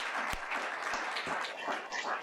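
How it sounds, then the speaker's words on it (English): Applause at a school district board meeting as an award recipient is called up, a dense, steady patter of hands from a room audience, moderately loud and sustained throughout with a few sharper claps standing out. "Let's give him a round of applause for receiving this well-deserved award"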